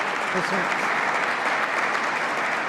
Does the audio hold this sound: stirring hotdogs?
no